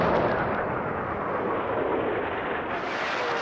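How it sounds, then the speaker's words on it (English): Allied artillery bombardment at Normandy at dawn on D-Day, 1944, a dense continuous roar of distant guns blending into a broad rumble, steady and fairly loud without clear separate blasts. "The Allied bombardment opens up."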